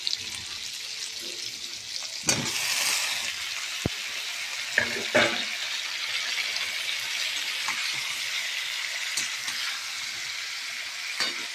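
Pumpkin frying in a pan for a Bengali curry, giving a steady, close sizzle with occasional scraping stir sounds and faint water-like hiss throughout, no talking.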